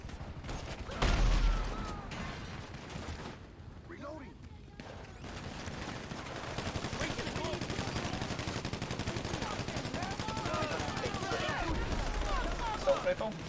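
Assault rifle fire in GTA Online crackles in dense, rapid bursts, becoming a steady rattling stream in the second half, with voices faintly underneath.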